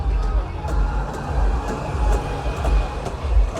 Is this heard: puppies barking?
no